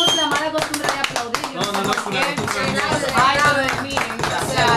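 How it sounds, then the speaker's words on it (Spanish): Radio show guests and audience clap along in a lively, rhythmic pattern for several seconds, mixed with voices and some musical tones in the background. "Aquí tenemos la mala costumbre de aplaudir"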